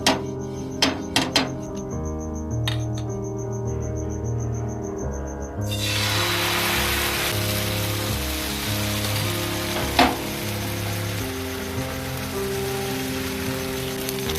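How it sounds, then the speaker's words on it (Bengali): Dosa batter frying in brushed oil on a hot tawa for instant dosa, a steady broadband sizzle that swells loudly after a few seconds and holds, under faint background music with a few sharp clicks. "এবার এর মধ্যে আমি অয়েল ব্রাশ করে নিয়ে ধোসাগুলো ভাজবো।"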